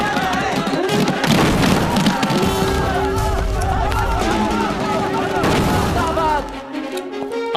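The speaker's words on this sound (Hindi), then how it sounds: "भगत सिंह ने बटुकेश्वर दत्त के साथ असेंबली में बम फेंका" Bomb explosion effect for a bomb thrown in a legislative assembly hall: a dense, loud burst of booming, crackling blasts with thuds, mixed with a crowd's agitated babble and a sustained tone, fading out at the end.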